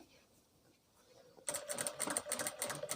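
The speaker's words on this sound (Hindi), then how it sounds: "शुरू में मशीन को डबल चलाएंगे।" A sewing machine stitches palazzo pants fabric at close range, silent at first, then bursting into a steady, rapid mechanical clatter that runs unbroken through the second half.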